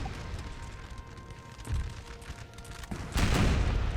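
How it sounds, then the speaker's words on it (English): Artillery fires round shot and canister in the Napoleon Total War battle game, several deep booming reports with a heavy final blast, moderately loud over a low rumbling battlefield bed. "That looked funny how that one fired round shot, that fired canister."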